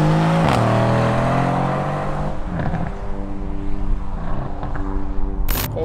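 A Mercedes C63 Estate with a 476 HP V8 roars loudly up close as it revs and then drops back, followed by crackling exhaust pops and a sharp final burst.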